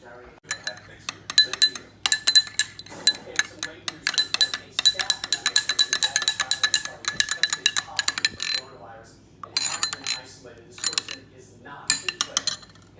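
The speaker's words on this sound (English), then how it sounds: "I gotta stir it a little bit and then put it in the microwave." A utensil stirs macaroni and cheese with milk in a dish, making rapid clinks and scrapes in bursts against the dish. It is close and fairly loud, with short pauses between bursts and a low background hum.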